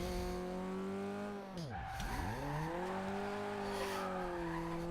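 Tyres squeal through a sustained drift in Forza Horizon 2, a loud rising and falling screech layered over a steady engine drone, with no voices.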